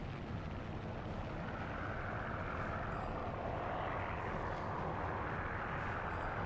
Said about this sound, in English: I hear an engine, but I don't know if it's ally or not.